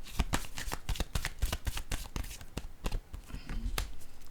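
Playing cards shuffled by hand in a quick run of crisp riffles and taps, close and fairly loud, with no voices.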